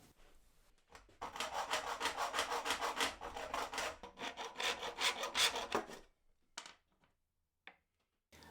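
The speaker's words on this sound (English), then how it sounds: "I've got some 10mm brass tubing, so I need to cut 9 pieces down." Brass tubing of 10 mm diameter being hand-sawn into short pieces: rapid rhythmic rasping strokes close by for about five seconds, then quiet with a couple of faint knocks.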